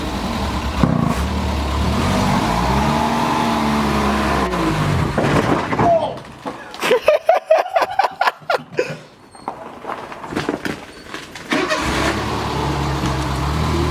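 An old Renault, abandoned for nine years, idles and rumbles, then revs and putters unevenly as it moves off, with intermittent chugging bursts and a voice briefly heard.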